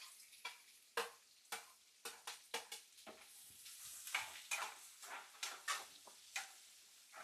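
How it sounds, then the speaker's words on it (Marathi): Chopped onion frying in hot oil with cumin, mustard seeds and curry leaves, a soft continuous sizzle broken by repeated sharp scrapes and taps of a spoon stirring in the pan, close and fairly quiet. "कांदा आपला फ्राय होत आलेला आहे"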